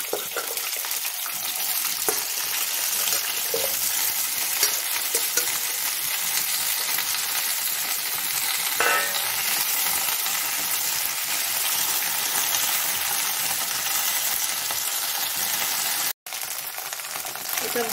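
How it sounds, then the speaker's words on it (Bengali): Okra pieces frying in hot oil, a loud continuous sizzle close by with occasional small clinks, holding steady throughout. "তেল গরম হয়ে গেছে, এবার আমি ভেন্ডিগুলো ভেজে নেবো।"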